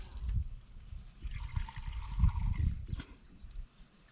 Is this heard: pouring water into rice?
yes